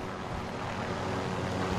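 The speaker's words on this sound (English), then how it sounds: "there's a fucking chopper coming as well" A helicopter approaching in a wartime first-person shooter game, a steady broadband rotor and engine drone holding at a constant level throughout, with no talk over it.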